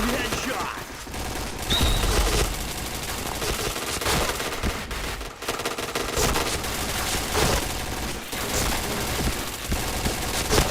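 Dense, rapid gunfire from the shooter game Point Blank plays almost continuously, loud and close, in overlapping automatic bursts.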